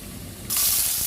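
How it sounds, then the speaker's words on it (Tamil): A loud, steady sizzle of mustard seeds hitting hot oil suddenly swells and keeps hissing, with faint crackling underneath. "இதுக்குள்ள ஒரு அரை தேக்கரண்டி கடுகு வடிக்க விடுவேன்."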